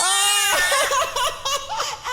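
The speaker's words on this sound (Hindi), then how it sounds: "बच्चों की रोने की आवाज" Close, loud infant wailing: a steady high cry at first, then a run of short rising and falling sobbing bursts that could be mistaken for giggling, with no talk.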